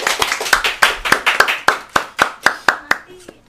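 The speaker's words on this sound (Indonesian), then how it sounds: "Tepuk tangan dulu." A small audience claps in a brisk, regular rhythm for an Indonesian talk show guest. Individual hand claps ring out clearly and close by, then fade out at the end with a faint trailing voice.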